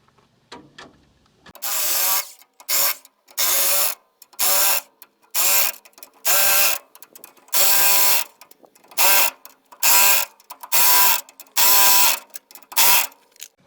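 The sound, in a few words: tightening utility trailer U-bolt nuts with ratchet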